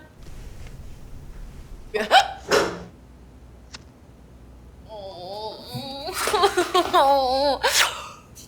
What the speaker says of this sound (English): tell me right before the next time you're gonna hiccup